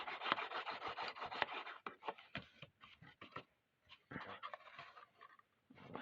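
Paper being burnished flat onto a small Stampin' Up adhesive caddy, a craft tape holder: close, dry rubbing and scraping strokes in uneven bursts with brief pauses.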